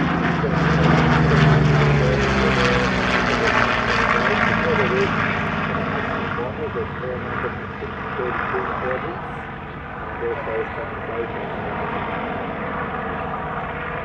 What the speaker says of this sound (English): Here, a Kitty Hawk from Arthur Pipe and Steel and a Warhawk from Pays Air Service, both based at Scone.